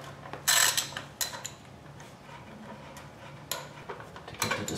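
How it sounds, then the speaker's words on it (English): Ratchet clicks and metallic clinks as 8mm bolts are undone on the sprocket cover of a Suzuki V-Strom motorcycle, coming in several sharp, close bursts with quieter ticking between them. "So let's get these bolts off that are holding that cover. These are 8mm."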